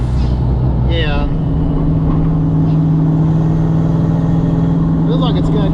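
Pop's car, a Mustang, hums with a steady engine drone while driving, close and constant from start to end, with faint chirping sounds over it near the start and end and no clear surge.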